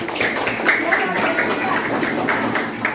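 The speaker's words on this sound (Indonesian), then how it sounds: "Tepuk tangan yuk" Schoolchildren in a classroom clap their hands together, a steady patter of many small hands with voices mixed in throughout.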